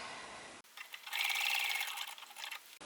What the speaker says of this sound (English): I am now going to sew from corner to corner.